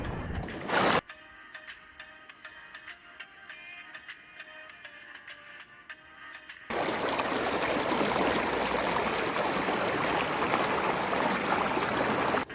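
Cold water flowing in a stream at an outing spot, first a quieter trickle with scattered sounds, then after a sudden shift a loud, dense rush of running water that continues steadily to the end.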